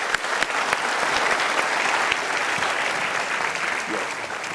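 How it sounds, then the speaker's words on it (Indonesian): An audience at a motivational talk breaks into sustained applause, many hands clapping densely and evenly for several seconds at full, close volume. "Yuk kita berikan tepuk tangan."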